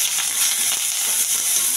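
Onions, curry leaves, cumin and green chillies fry in hot oil, a steady, close, bright sizzle with faint crackles and no voices.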